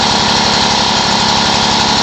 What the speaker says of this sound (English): as the engine warms up, it seems to always idle up a little bit anyhow